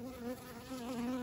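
Honey bees buzz around a hive entrance, a steady close droning hum with several insects flying at once and no other sounds.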